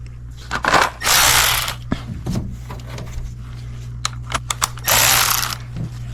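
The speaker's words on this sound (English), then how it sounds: "So now we're gonna tighten these bolts." Ratchet wrench tightening oil cooler bolts on a Sprinter van, several bursts of fast clicking pawl action with pauses between, close and fairly loud over a steady low hum.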